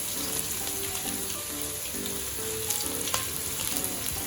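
Six shallots frying in a hot pan while making Chettinad-style chicken varuval, a steady, fairly quiet broadband sizzle throughout with a few faint clicks of utensils and no talk.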